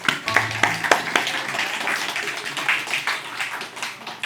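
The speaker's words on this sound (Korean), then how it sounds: "박수." Applause from a group, a dense patter of many hands clapping steadily for several seconds.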